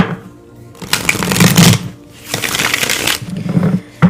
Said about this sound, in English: Pull some tarot. Pull a few cards here.